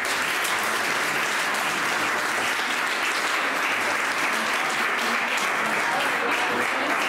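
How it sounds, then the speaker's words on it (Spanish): A crowd at the Marcilla 2023 festival ceremony for handing out pañuelos applauds loudly and continuously, a dense unbroken wash of clapping from many people. "Un aplauso ahora para Javier Ventura."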